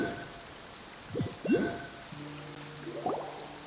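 Steady light rain hisses in a game world, with a few brief low tonal blips and a soft rising chime cutting through near the middle and end.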